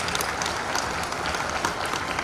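Audience clapping to welcome a Madhya Pradesh minister at a political gathering in Sagar, a dense burst of steady applause from a crowd, fairly close and sustained.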